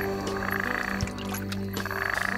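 Frogs croak in a busy chorus, repeated pulsing calls overlapping close by, with other nighttime clicks and chirps around them.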